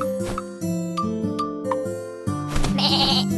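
Cartoonish sheep bleats from a Caillou counting game ring out in several clear, close cries, layered with musical tones and a light jingle.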